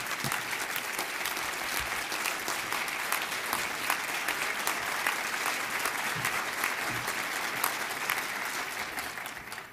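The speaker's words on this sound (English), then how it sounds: "give a great round of applause to Ambassador Robert Joseph." An audience applauds Ambassador Robert Joseph, a steady, even wash of clapping heard from a moderate distance that continues throughout and tapers off slightly at the end.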